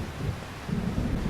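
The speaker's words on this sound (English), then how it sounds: "I just really hate thunder." Thunder in the video game Xenosaga Episode I: a low, steady rumble with rain-like hiss that swells slightly partway through, with no speech.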